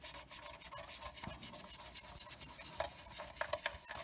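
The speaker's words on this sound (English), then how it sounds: "Any smeary spots, you can just kind of rub them in." Close, steady rubbing and scrubbing as weathering is worked into a Monogram M3 Lee scale model, a soft continuous brushing texture with an irregular back-and-forth rhythm and a few small taps, no voices.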